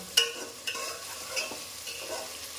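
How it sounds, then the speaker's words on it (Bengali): Meat is stirred in a pan while frying for a meat-and-rice dish. A faint sizzle runs throughout, with a few light scrapes and taps of a spatula spaced through the short stretch, and no voices. "এবার ভালোভাবে কষিয়ে নেব 5 মিনিট"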